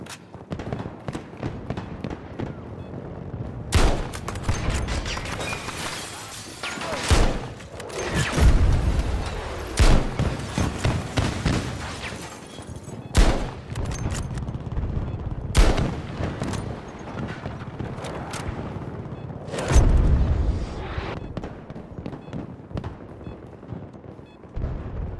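Hostile gunfire in Battlefield 2042 Portal on the Arica Harbor map: repeated sharp rifle and automatic bursts with loud cracks and echoing booms, some near and some farther off, irregular throughout.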